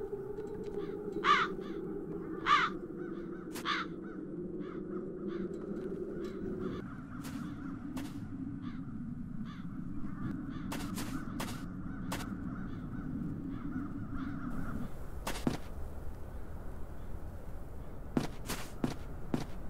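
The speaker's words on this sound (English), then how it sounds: "Those peculiar crows." Crows caw repeatedly in the dark fantasy adventure game The Dark Eye: Chains of Satinav, sharp calls scattered over a steady low ambient drone with faint footstep-like shuffles, no talking.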